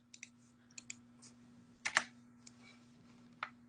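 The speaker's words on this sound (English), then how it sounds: "And I'm going to click copy" Several quiet keyboard keystrokes and mouse clicks on a computer, scattered singly and in a brief cluster, with a steady low electrical hum in the background.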